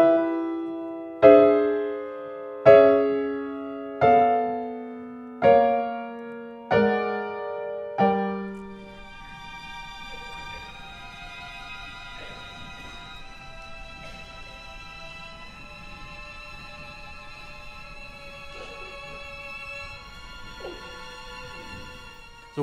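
Six heavy, dark chords from Porgy and Bess struck one after another, each ringing and decaying, then a quieter sustained orchestral passage holding tense harmonies.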